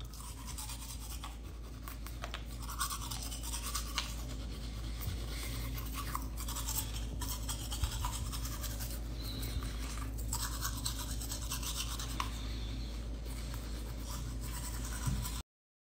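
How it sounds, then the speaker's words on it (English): Steady, close scrubbing of a toothbrush on teeth, with a continuous rhythmic bristly rasp that lasts throughout and no talking. "What do you mean am I using my toothbrush"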